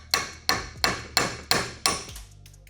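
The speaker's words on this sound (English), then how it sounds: "take a hammer and a punch" Six sharp metallic hammer taps on a punch at an even pace, working a part off an RM250 motorcycle engine, each ringing briefly before the next, close and clear with no talking.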